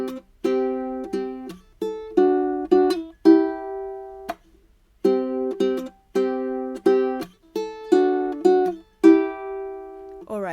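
A ukulele played fingerstyle, picking out the melody of a song in clear plucked notes and short chord clusters with brief muted pauses, close and solo with no voice.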